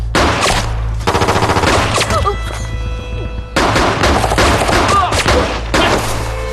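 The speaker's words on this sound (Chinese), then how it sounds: "谁让你们开枪的？" Gunfire in a war drama, dense bursts of rapid machine-gun and rifle shots in two long loud volleys with a brief lull between, alongside distant shouting.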